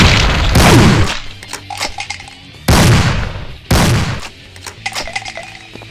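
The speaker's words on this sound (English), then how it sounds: "regardless if it fires both barrels or one barrel, it will always fire a single barrel before it appears to reload" In a Doom mod video game, a shotgun sergeant fires a shotgun. Three loud, booming blasts ring out with heavy decaying tails: one at the start, then two more close together later, with metallic clatter in the gaps.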